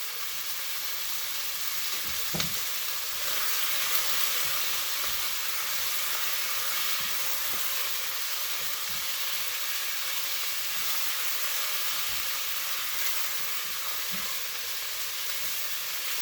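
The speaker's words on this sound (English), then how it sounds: "Now we're trying to brown this on all sides." Meat browning in a pot for mushroom barley soup, seasoned with salt and pepper, sizzles with a steady broad hiss throughout, with a few faint stirring clinks and scrapes.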